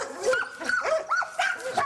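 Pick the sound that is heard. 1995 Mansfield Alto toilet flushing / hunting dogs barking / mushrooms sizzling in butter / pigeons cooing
hunting dogs barking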